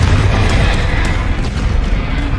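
A Bombarda or Confringo spell explosion in Hogwarts Legacy: a loud, sustained low booming roar with crackling debris, dense and rumbling throughout, easing slightly toward the end.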